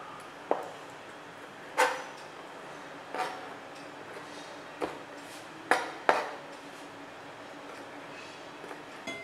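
Knife chopping raw shrimp into bite-sized pieces on a board, a handful of sharp, separate taps spaced irregularly, close and moderately loud over a quiet kitchen background, no talking.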